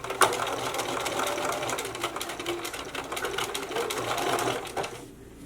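Piping is sewn into a garment seam on a sewing machine, a steady close whirring run of rapid stitches that stops abruptly near the end, with no speech.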